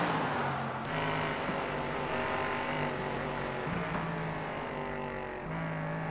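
Race car engine at the Nürburgring in a racing video game, a steady loud engine drone with shifting pitch and passing cars layered over it throughout.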